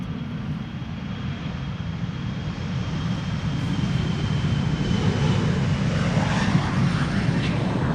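A KLM Embraer 175 airliner at Amsterdam Schiphol Airport produces a broad, loud engine roar that grows steadily stronger as the jet approaches, with no pauses.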